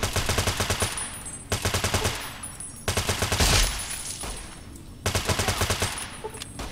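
Rapid automatic gunfire from the video game Fallout: New Vegas, several long sustained bursts separated by short pauses, loud and close with no speech.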